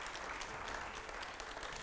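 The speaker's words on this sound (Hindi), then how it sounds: "पहले सवाल से पहले जोरदार तालियां होनी चाहिए।" Loud, sustained applause from a studio audience at a televised Hindi debate show, a dense steady clapping that fills the whole stretch without any talk over it.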